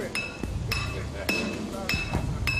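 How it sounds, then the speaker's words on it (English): Part being hammered into position on a skyscraper construction site, five sharp ringing metallic strikes at an even pace, close and clear, with faint voices in the background. "Finally, after 45 minutes, it's time to hammer it into position."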